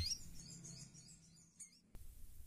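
A konin, or kolibri ninja sunbird, gives faint, high, thin chirps and twitters in quick broken bursts, heard alone and fairly distant with some low background rumble.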